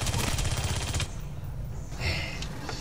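A submachine gun in Aliens: Colonial Marines fires a fast, loud burst for about a second, then goes quiet before a few shorter rattling shots and impacts.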